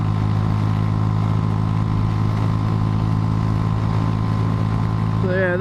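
A struggling motorcycle engine runs steadily and loud throughout, its low harmonic drone broken by faint irregular pops, with no talking.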